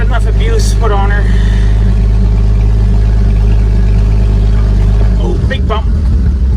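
International Harvester L-130 truck engine while driving, a loud, low, steady rumble that droning along and shifts near the end, with someone talking over it.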